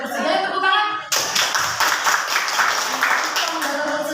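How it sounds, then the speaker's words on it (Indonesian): Children in a classroom clap their hands in a quick burst of rapid, close applause that continues for a few seconds, right after an adult speaks. "Ayo tepuk tangan."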